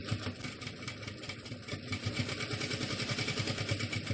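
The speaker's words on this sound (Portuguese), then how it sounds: "Eu vou fazer essa costura fazendo um retrocesso, olha." A sewing machine stitches a backstitch on a car litter bag, a fast, even, close mechanical chatter that keeps running with slight shifts in pace, no voices.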